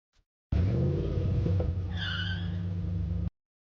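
A car's tires screech in a sustained, loud skid, with engine rumble underneath and a rising whine toward the end before it cuts off abruptly.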